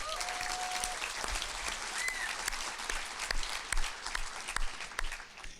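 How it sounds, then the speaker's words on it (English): A graduating class at a commencement ceremony applauds itself, a broad, steady wash of clapping from a large crowd, with a few brief whistles or cheers rising above it. "Class of 2018, give yourself some applause"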